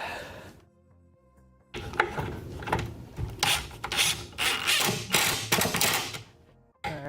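Screws are driven in with a rough, grinding, rasping sound that comes in repeated bursts for several seconds, close by, with brief pauses between turns.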